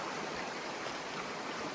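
Clear stream water flows steadily in the provincial countryside, a soft continuous rushing hiss with no voices.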